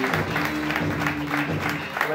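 A game-show audience at Asylum NYC claps for eliminated contestants, with brisk, continuous applause under a host's speech.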